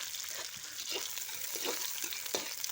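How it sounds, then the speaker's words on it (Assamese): Onions fry in mustard oil in a pan, a faint continuous sizzle broken by regular scraping stir strokes about every half second. "পিঁয়াজখিনি অকণমান ৰঙা হোৱালৈকে ভাজি আছোঁ"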